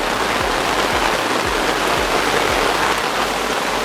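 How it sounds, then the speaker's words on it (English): Steady, dense rain hisses down outdoors, an even wash of falling water with faint low thumps underneath. "So we're out here in the rain."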